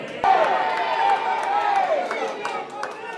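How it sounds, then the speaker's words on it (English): A wrestling crowd cheers and claps in an arena, a broad roar of voices with scattered sharp claps and thuds. A commentator talks over the noise near the start. "there you hear the crowd getting behind Big Flexy himself"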